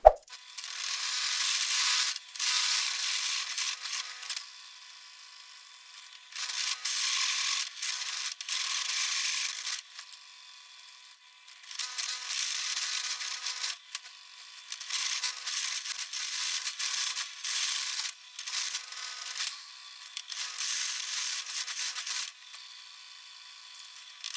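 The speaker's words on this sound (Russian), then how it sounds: "Давайте я сейчас сверлюсь и потом включаюсь и все вам объясняю" A power drill bores holes in metal parts for a homemade cold-smoking generator, running in repeated bursts of several seconds with short pauses between, close and steady, with no talking.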